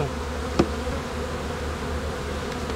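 Honeybees buzz inside an opened beehive during a spring inspection, a steady low drone close by with one brief louder pass near the start.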